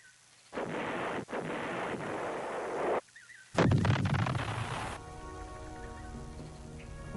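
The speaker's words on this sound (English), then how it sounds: "American infantry could call on heavy fire support at any time." Artillery guns fire in a Vietnam War documentary, with several heavy booms separated by short silences, then a long rolling rumble of bombardment that fades out.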